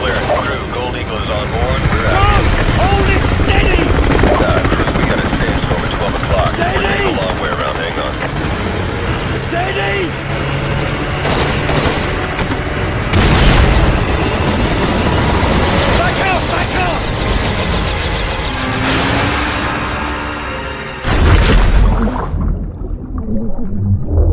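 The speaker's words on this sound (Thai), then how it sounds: "เชฟเพิร์ดหนีขึ้นเฮลิคอปเตอร์ไปได้" A loud helicopter engine in the video game Call of Duty: Modern Warfare 2 Campaign Remastered roars and thrums over a dense, chaotic mix of action sounds, with a voice speaking over it before it cuts off abruptly.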